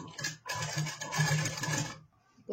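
A sewing machine stitches thick cord along the edge of a blouse, humming in a sustained burst that stops briefly and then starts again, close and moderately loud.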